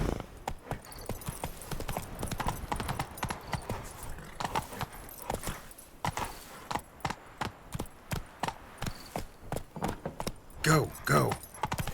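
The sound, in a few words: horse Roach galloping hooves in Witcher 3 video game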